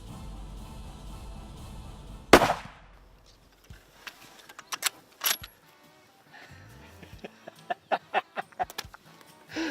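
A single loud rifle shot cracks out during a Texas hunt, sharp and close, with a quick echo tail, followed by quiet rustling and a few clicks and knocks.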